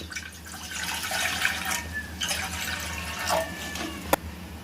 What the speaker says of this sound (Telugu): దాంట్లో కొంచెం వాటర్ వేయండి.